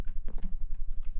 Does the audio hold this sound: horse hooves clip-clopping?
yes